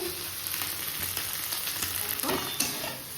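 Potato, eggplant, onion and tomato sizzling in a pan after fish was fried, a steady close frying hiss with small stirring scrapes and bursts, no talking.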